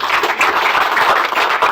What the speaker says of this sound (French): je demande qu'on l'applaudisse